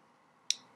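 A computer mouse clicks on a spreadsheet cell, giving a quiet, crisp click and then a second fainter one against a near-silent background.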